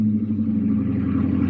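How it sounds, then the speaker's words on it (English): A 1998 Ford Mustang GT V8 idles steadily right after starting with freshly changed spark plugs and wires, a close, continuous low rumble with no talk. "All right, so first start up with all the plugs and the wires changed."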